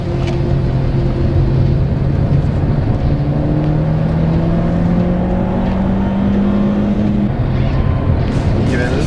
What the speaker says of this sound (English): Oh, bit of wheel spin.